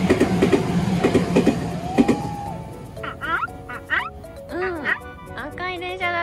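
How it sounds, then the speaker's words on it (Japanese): A red train rumbles past with rhythmic clattering over the rails at first, then fades while a child and adult chatter over it. "うん、赤い電車だったね。"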